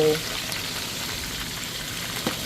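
Onions going into a pan that already holds garlic for a Nigerian tomato stew, giving a steady, even sizzle of frying throughout, with a faint clink near the end.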